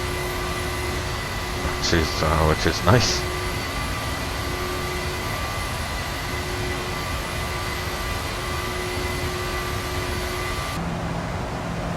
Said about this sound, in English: The engines are doing well,